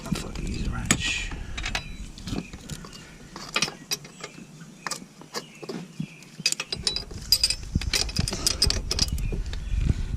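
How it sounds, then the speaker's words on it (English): A hand wrench ratchets in short, uneven bursts of clicking while a turbo is removed from a 2007 Subaru Legacy Spec B at a tight angle. The clicks come close up, with clanks of metal and occasional talk. "Use a wrench."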